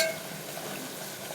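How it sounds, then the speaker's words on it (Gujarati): Roti frying in hot oil in a home kitchen, a steady close sizzle that holds evenly throughout with no talking. "રોટલી તળી નાખું"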